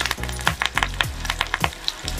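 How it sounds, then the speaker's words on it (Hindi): Onion and curry leaves hitting hot mustard oil for a tadka, crackling and sizzling steadily with sharp popping spurts and stirring, close and fairly loud with no talking. "देखिए मैं प्याज को ऐड कर दे रही हूँ तड़के के लिए और मैं कड़ी लिप्स डाल दे रही हूँ।"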